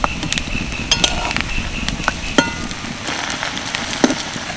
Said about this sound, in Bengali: এই মাছগুলো ভাজতে কিন্তু বেশি সময় লাগছে না, এক পিঠ হালকা ভাজা হয়ে গেছে।